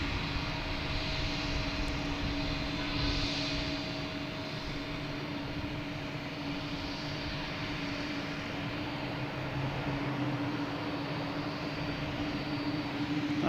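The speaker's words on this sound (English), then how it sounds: "So that plane there, the JetBlue in the background, is heading to LAX." JetBlue jet airliner departing Boston Logan Airport, bound for LAX, a distant continuous engine roar with a steady whine, sustained at a moderate level for several seconds with no voices over it.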